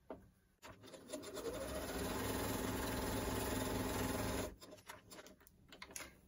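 A sewing machine stitches a fabric face mask in one steady, close whirring run of about four seconds, with quieter fabric handling before and after.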